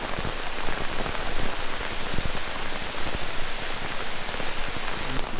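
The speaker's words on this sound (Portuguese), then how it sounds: "esperando a chuva passar" Rain falling steadily and heavily, a dense, loud, continuous hiss of drops pattering on a surface with no pause or voices.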